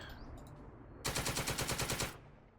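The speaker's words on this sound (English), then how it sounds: "Got the kill with the MG" Machine gun fire in the Second Front war game, a single loud, close burst of about a dozen rapid rounds lasting around a second after a quiet lead-in.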